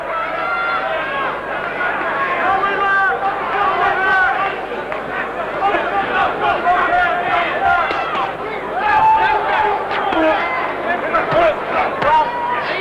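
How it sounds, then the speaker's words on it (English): A boxing arena crowd roars and shouts in support of Zolkin, a dense, sustained wash of cheering and yelling with surges and individual calls, while a commentator talks over it. "Well, the crowd getting behind Zolkin."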